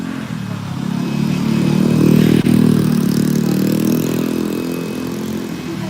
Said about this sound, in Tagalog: Ingay ng kotse na yun.